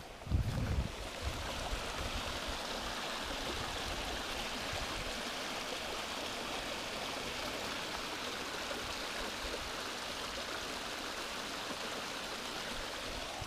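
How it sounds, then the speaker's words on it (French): A small forest stream with a gentle flow gives a soft, steady wash of running water, continuous and fairly faint throughout, with a brief bump of handling near the start and no voices. "Joli petit bruit d'eau, c'est appréciable."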